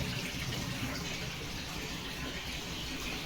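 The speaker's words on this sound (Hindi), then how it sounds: "फाइनली पानी आ चुका है।" Tap water gushing steadily into a tank or basin after trapped air clears from the line, a continuous broadband rush at constant level with no pauses.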